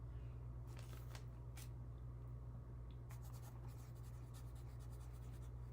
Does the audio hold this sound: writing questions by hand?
yes